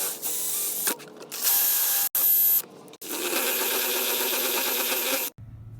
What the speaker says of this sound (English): we're just going to need to bore it out a little bit with the drill bit